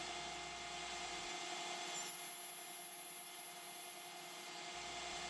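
A spinning top is hand-turned on a lathe with a cutting tool taking a light, easy cut, giving a steady, close scraping hiss with a constant motor hum underneath.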